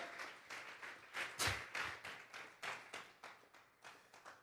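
A church congregation claps hands together in a burst of applause, a steady run of sharp, close claps that swells briefly near the middle, with no talking over it.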